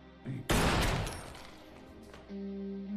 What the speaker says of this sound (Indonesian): tiba-tiba Emily melepaskan tembakan untuk membunuh Miguel